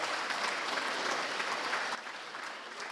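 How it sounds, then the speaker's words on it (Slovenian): An audience at the opening of a climbing centre in Prevalje claps steadily, a dense, moderately distant wash of applause that eases slightly partway through. "sedaj pa aplavz"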